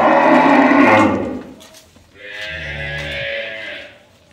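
On a dairy farm, a cow lets out a long, loud moo, then a second, lower moo follows after a brief pause, both close and clear with little else around.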